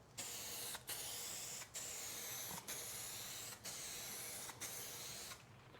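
Long bursts of etching primer spray hiss from a spray gun onto a car body panel, close and steady, broken by brief pauses about every second, with no talking.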